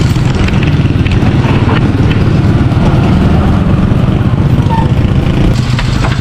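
A motorcycle engine runs at a steady idle, a continuous close, low rumble that holds unchanged from start to finish.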